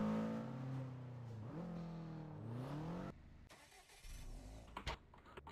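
A car engine revs hard for about three seconds, its pitch climbing and dipping in a steady rising and falling whine, then cuts out abruptly, leaving a quieter stretch of rumble and a few sharp knocks.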